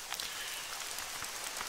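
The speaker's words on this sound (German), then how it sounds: "Es regnet wie verrückt." Heavy nighttime rain in The Hunter: Call of the Wild, a steady dense hiss of drops pattering on surfaces with no voices, continuous and even throughout.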